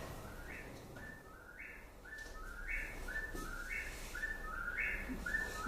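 A recorded songbird repeats a clear, rising whistled phrase again and again in a steady rhythm, moderately faint against a soft background hiss.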